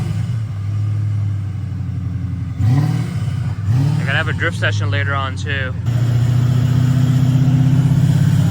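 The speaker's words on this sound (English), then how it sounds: "Car sounds insane." A Ford Mustang RTR drift car rumbles nearby at a car show, its engine idling loud and low, then revving in a couple of rising pulls. People talk over the engine in the middle of the clip.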